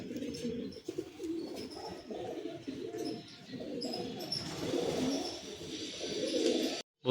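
Pure-bred pigeons in a loft coo over and over in low, rolling, overlapping calls, steady and fairly close, with faint chirps above and no talk.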